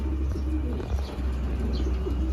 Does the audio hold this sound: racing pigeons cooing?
yes